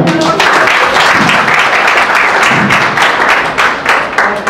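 An audience at a motivational talk breaks into loud, dense applause that carries on steadily for several seconds before thinning slightly.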